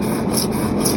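Handsaw cutting slowly through a 2-inch irrigation main line pipe, a steady continuous rasping rub with no pauses, close and fairly loud.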